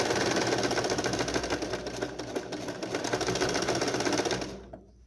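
A sewing machine runs a steady fast stitch while a curved lapel seam is sewn, close and loud, then stops abruptly near the end.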